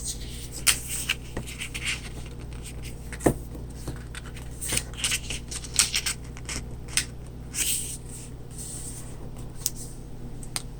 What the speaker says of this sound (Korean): 그 다음 이렇게 돌려서 한 번 더 반으로 접어주세요.